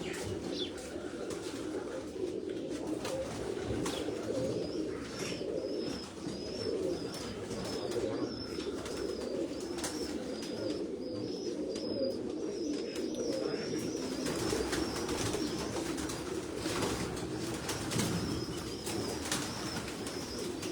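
Salara pigeons on a rooftop coo in a steady low chorus, with a thin high repeating call and scattered wing rustles over a long stretch, and little talking.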